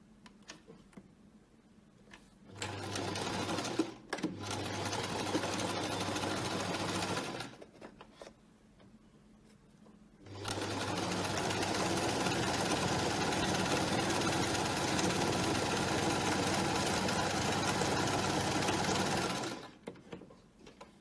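A sewing machine stitches the gusset of a pressure garment glove in two runs, a short burst with brief pauses followed by a long steady whir, close and alone with quiet gaps between.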